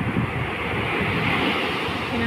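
Ocean waves wash continuously onto the shore nearby, a loud, steady roar of surf with wind noise and no clear breaks.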